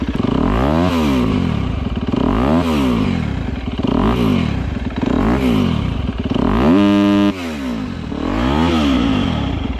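A Chinese enduro motorcycle with a KTM engine revved repeatedly, each blip rising and falling in pitch in a steady rhythm, loud and close, with a rattly exhaust and no speech.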